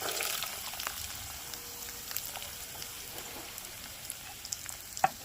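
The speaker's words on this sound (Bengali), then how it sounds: "রসুন আর লঙ্কার একসাথে এটা একটুখানি ব্রাউন করে নিয়ে এর মধ্যে এবার দিয়ে দেবো সব সবজিগুলো" Potatoes frying in a pan with garlic and chili, a quiet, steady crackling sizzle with a few light pops and one sharper knock near the end.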